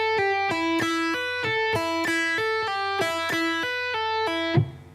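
An electric guitar plays a solo phrase with quick pull-offs, repeating a clean, bright cycle of descending notes in a steady rhythm with no talking.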